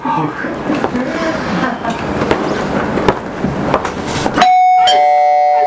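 A doorbell rings out clearly near the end, sustained ringing chime tones that cut through after several seconds of busy, noisy room sound with people talking.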